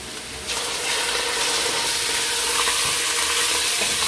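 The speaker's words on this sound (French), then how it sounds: "voici mes oignons qui commencent à prendre un peu de couleur. Alors là, je vais ajouter ma viande." Beef strips dropped onto onions already browning in a pan for a rice-vermicelli dish, the frying jumps into a loud continuous sizzle and stays strong, with occasional stirring noises and no talking.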